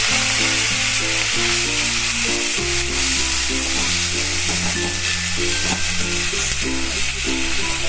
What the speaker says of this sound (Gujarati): આપણું લસણ લાલ થઈ ગયું છે તો હવે આપણે ભાજી નાખી દઈશું